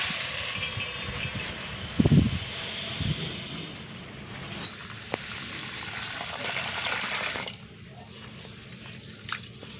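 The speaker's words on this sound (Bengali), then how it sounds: "চালটাকে খুব সুন্দর করে ধুয়ে নেব" Rice being washed by hand in water, close wet squishing and swishing of grains with a couple of louder splashy pushes early on, then quieter rinsing.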